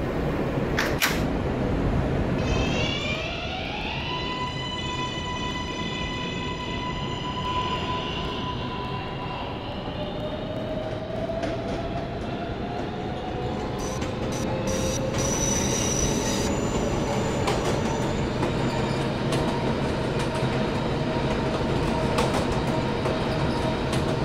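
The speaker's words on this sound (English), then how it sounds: "This is a Myrtle Avenue bound N train." A Roblox video-game R143 subway train on the N local line pulls away, its motor whine rising in pitch over rumbling wheels and clattering track noise, with squealing as it gathers speed.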